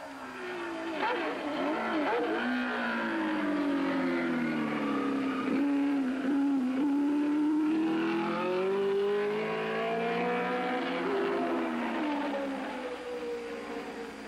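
Race car on a hill-climb qualification run, its engine revving loud and close with rising and falling pitch through shifts and a hairpin turn, sustained throughout with no talk.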